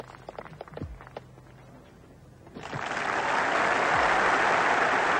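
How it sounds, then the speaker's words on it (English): Spectators at the 1977 Open Championship golf tournament break into warm applause for a player finishing his round, the clapping swelling in midway and holding steady and loud after a few quieter thumps and shuffles. "great round of applause"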